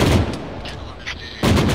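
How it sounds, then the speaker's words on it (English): Heavy weapon blasts in the military video game ARMA 3 as tanks fire. A loud booming burst opens the clip and another hits near the end, with a rumbling tail between them. "Just receiving tank fire, there's more tanks out there."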